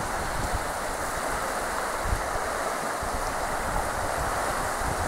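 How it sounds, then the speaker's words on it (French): Steady rain falling and water splashing underfoot inside a derelict old flour mill, a dense continuous wash of noise close by, with no one talking. "Oui, parce qu'il pleut."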